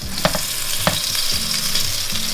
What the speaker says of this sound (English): we're gonna just drop it over here in the skillet in the bacon grease